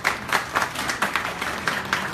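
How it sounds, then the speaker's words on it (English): An audience at a ward councillor debate claps, giving a sustained burst of applause with a loose, uneven rhythm that stays steady and fairly loud throughout. "you can give a really big round of applause"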